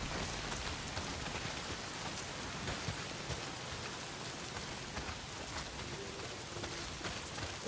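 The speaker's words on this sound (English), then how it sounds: "not if it's pissing down rain" Heavy, steady rain pours down in the video game Days Gone, a dense, continuous hiss of drops drumming on surfaces with no talk over it.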